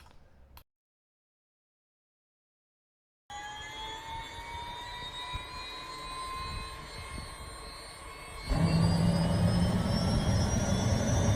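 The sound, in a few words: aircraft turbine engine spinning up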